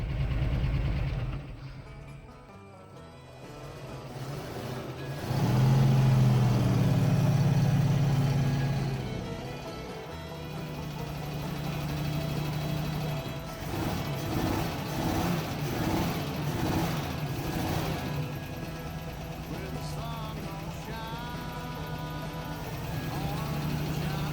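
A 1976 postal Jeep, parked in the woods for years, runs and rolls out smoke, its engine a steady mid-pitched rumble with a swell and changes in load, heard alone without voices.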